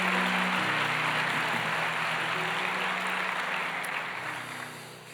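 A church congregation applauds during a Portuguese-language service, a thick, even wash of clapping over soft background music that gradually fades toward the end.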